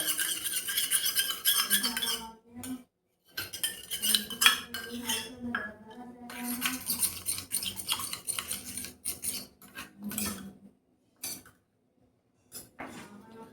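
Homemade Chinese bhel being tossed in a bowl with utensils: close, repeated metallic clinks and scraping rubs in irregular bursts, broken by short silent pauses.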